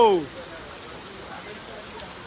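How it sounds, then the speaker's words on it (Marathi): Heavy monsoon rain in Konkan patters in a dense hiss after a brief voice at the start, continuing evenly and moderately loud. "कसलो पाऊस पडता बघा सगळा भिजवून टाकल्यान"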